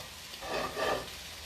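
Tofu frying in a pan for a stir fry, a low broadband sizzle that swells briefly twice in the middle of a short stretch, fairly quiet and steady with no voices.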